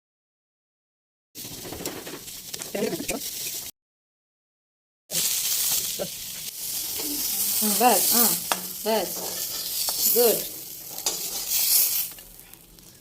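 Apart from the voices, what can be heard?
fish frying in hot oil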